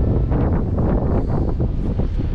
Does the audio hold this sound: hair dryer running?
no